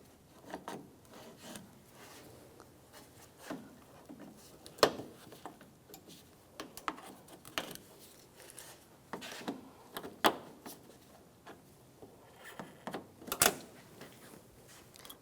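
Plastic trim tool prying push pins out of an interior panel on a 2004–2009 Toyota Prius during headlight replacement, heard as scattered close clicks, scrapes and rubbing knocks at an irregular pace, with no speech.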